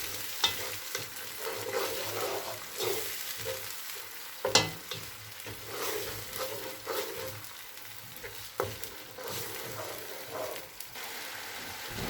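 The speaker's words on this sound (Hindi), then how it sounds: "अदरक लहसुन का पेस्ट शामिल करेंगे, कुछ सेकंड के लिए भून लेंगे।" Ginger garlic paste fries in a pan for a beef kofta curry, giving a steady close sizzle broken by sharp scraping stirs and spoon clicks, with no talking.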